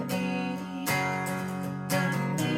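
Acoustic guitar plays a song's outro, ringing strummed chords that change roughly once a second, close and fairly soft with no voices.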